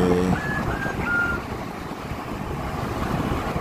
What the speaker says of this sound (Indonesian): lumayan ramai kendaraan yang melintas